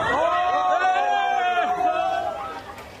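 Crowd of onlookers shouting and calling out during a police chase in Williamsburg, Brooklyn, as a suspect stands on elevated railroad tracks; overlapping raised voices form a loud, continuous babble that fades slightly toward the end.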